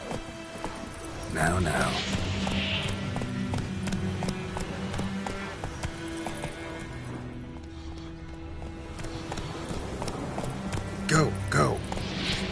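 Geralt's horse Roach gallops in The Witcher 3 video game, with steady, near hoofbeats running throughout and a voice speaking over them.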